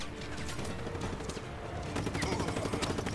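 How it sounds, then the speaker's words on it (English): Bursts of automatic gunfire and scattered shots in the video game Just Cause 3 keep up a dense, continuous barrage for about three seconds, with no talking over it. "Who is shooting at me?"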